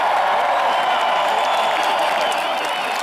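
A large concert crowd at a rock show in Berlin in 2013 roars and cheers loudly and steadily, with clapping mixed in throughout.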